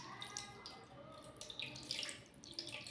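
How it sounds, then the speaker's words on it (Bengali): Ganges water is poured during Hindu worship, giving a faint, soft trickle and splash with small drips, close by and alone. "এবার গঙ্গা জল দেবো।"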